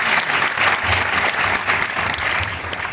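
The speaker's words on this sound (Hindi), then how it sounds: "आइए ताली बजाएं।" Sustained audience applause fills a church gathering for a cancer healing testimony, a steady dense clapping from a crowd heard throughout without speech.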